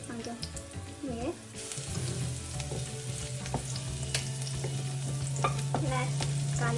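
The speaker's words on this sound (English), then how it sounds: "Let the garlic be a little brown." Garlic frying in hot oil until lightly browned for a bitter gourd (karela) dish, a steady sizzle that thickens and grows louder partway through, with stirring clinks over it and brief speech.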